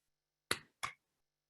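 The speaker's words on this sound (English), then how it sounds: "It's the clap." Two sharp hand claps about a third of a second apart, crisp and close in a quiet room, followed by another onset at the very end.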